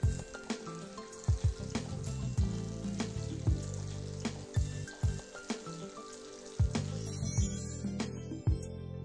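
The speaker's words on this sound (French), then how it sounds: "On verse un peu de préparation dans l'huile et on laisse cuire de chaque côté." Egg mixture spitting and sizzling in hot oil in a pan, with a steady frying hiss broken by frequent sharp crackles and pops, close and fairly quiet, with no talking.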